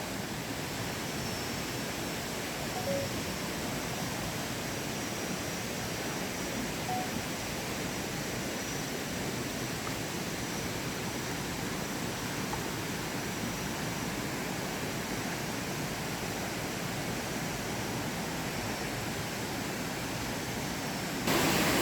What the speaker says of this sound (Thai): ให้ดูบรรยากาศครับของน้ำตก